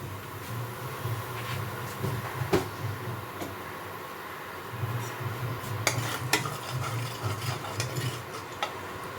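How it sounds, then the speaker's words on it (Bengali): Nigella seeds, about a spoonful, dropped into hot oil while cooking Sorse Posto Jhal, giving a soft steady sizzle under scattered clinks and taps of a spoon against the pan, close by with no talking. "তেল গরম হয়ে গেছে, এর মধ্যে আমি কালো জিরেটা দিয়ে দেবো 1 চামচের মতো।"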